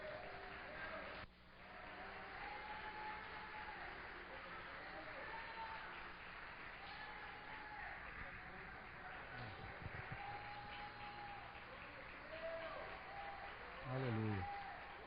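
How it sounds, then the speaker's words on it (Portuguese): A church congregation applauds after a pastor's prayer, a broad steady wash of clapping filling most of the stretch with a voice speaking over it. "Você pode aplaudir ao Senhor?"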